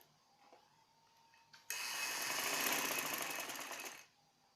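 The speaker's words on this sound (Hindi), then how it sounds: "एक साइड से मोड़ के तो सिलाई लगा लें फ्रिल बनाने के लिए।" A sewing machine stitches along a folded fabric strip to form a frill for a baby frock, running in one steady, fairly close burst of about two seconds after a faint click, with no talking.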